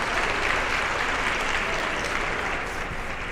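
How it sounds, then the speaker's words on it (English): Sustained audience applause at a SWE Seattle 2023 event, a dense, steady wash of clapping hands from a crowd that holds evenly for several seconds without a break. "So round of applause for them."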